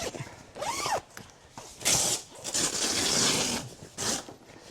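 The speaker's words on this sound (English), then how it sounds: "So you can zip these windows right up if you want." Zippers run along the big side windows of a 2012 Ultimate camper's underbed screen room, several rasping zip strokes in quick succession with short pauses between them, close and fairly loud, with no talking.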